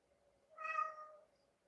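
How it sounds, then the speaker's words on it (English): A single drawn-out cat meow rises and falls over about a second, clear and isolated in an otherwise quiet space. "What exactly does that meow mean?"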